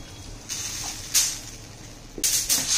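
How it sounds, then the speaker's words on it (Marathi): Water is poured into a hot pot of spiced moong dal in a few short splashing bursts, hissing and sizzling against a quiet background. "डाळ शिजण्यासाठी यात पाणी घालायचं आपल्याला."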